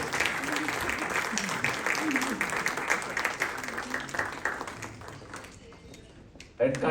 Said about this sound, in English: So a big round of applause for this department also.